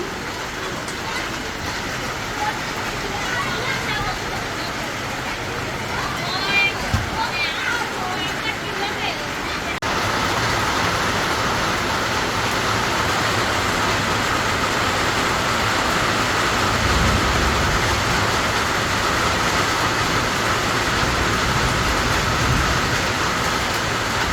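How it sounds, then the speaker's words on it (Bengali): Rain coming down outside, a dense continuous hiss and patter that swells louder partway through and holds steady to the end. "এই যে বৃষ্টি পড়তেছে।"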